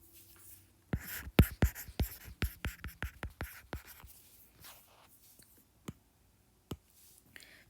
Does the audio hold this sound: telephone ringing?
no